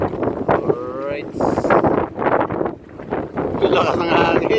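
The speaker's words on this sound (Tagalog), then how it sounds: "Lakas ng hangin guys." Strong wind buffets the microphone outdoors by a harbor with ships, a continuous rumbling roar under a voice speaking throughout.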